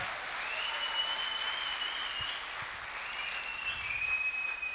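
An audience claps at a speech event, a continuous soft wash of applause heard from a distance, with faint high whistling tones riding over it for the whole stretch.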